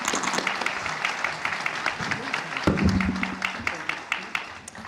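An audience at an AI policy panel applauds the panelists, a steady spread of clapping with a brief low voice or tone cutting in midway before the clapping thins out.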